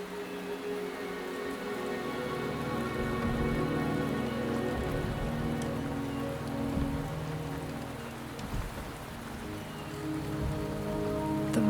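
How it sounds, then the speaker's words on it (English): Rain in the video game Wuthering Waves, a steady, even hiss of falling drops on surfaces with a low rumbling bed beneath, continuous and fairly close, without voices. "The rain is subsiding, and the sky will soon clear."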